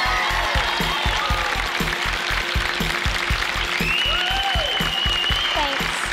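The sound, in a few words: audience cheering and clapping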